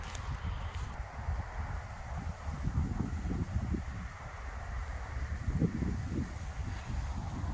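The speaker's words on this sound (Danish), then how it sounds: "nu blæser det lidt, det er lidt ærgerligt" Steady wind buffets the microphone in open countryside with sheep and cows, a low continuous rumble that rises and falls slightly, with no speech.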